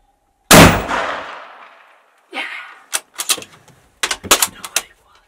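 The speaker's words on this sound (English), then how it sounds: "And I shoot him" Deer hunting during gun season: one sharp, loud gunshot rings out early and decays over about a second, followed by scattered clicks and thumps of handling gear.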